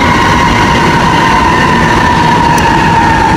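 Loud, continuous rumble of an MRT metro train at Ortigas station in Manila, with a sustained mechanical whine, close and unbroken throughout.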